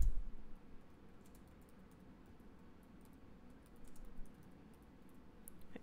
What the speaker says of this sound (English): Forgive me for typing slow.